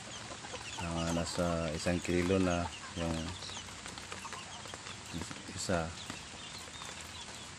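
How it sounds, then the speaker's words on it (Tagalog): Backyard chickens, some of them fairly large, cluck and squawk in bursts while they feed, close by, with someone talking quietly over and between the calls. "Andyan na po guys yung mga manok ko"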